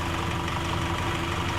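A 2004 Nissan X-Trail T30 4x4 diesel engine, recovering after a diesel runaway, idles steadily with a low, even rumble and faint rhythmic knocking, continuous and close throughout the short stretch.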